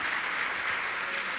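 An audience claps together at a Jain monk's question-and-answer discourse, a steady dense wash of many hands that runs unbroken and evenly loud from start to finish.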